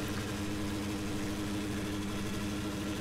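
A modded tractor engine in Farming Simulator 2013 drones at a constant, throaty idle-like rumble, steady and loud with no other sounds.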